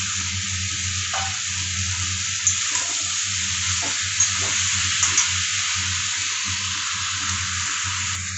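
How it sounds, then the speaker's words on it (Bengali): Prawns sizzle steadily in a pan with pointed gourd, a continuous hiss of frying punctuated by a few soft stirring clinks and knocks, close and alone with no voices. "চিংড়ি মাছটা অ্যাড করে দিচ্ছি।"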